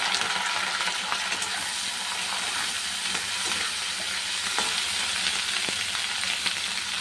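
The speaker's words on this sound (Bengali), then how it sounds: "আগে আলুটা একটু ভেজে নিই, তারপরে আমি পেঁয়াজটা দিয়ে দেবো" Onions and potatoes fry together in a pan for a fish roe curry, giving a continuous close sizzle and hiss with occasional sharp crackles and stirring scrapes, heard alone without speech.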